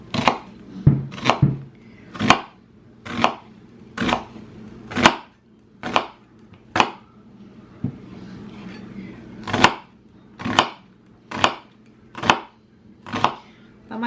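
A knife chops through a yellow onion on a board in steady, evenly spaced strokes, about a dozen crisp close-up cuts with a brief pause in the middle, with faint background noise and no talk.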